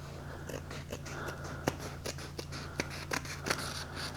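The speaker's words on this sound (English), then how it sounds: "I'm using craft scissors instead of sewing scissors" Craft scissors snipping through fabric for a tree wall-hanging, a run of short, crisp cuts at an uneven rhythm, close and moderately loud over a low steady hum.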